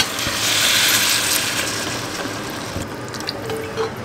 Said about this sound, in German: Und dann gießen wir das Ganze mit Wasser auf.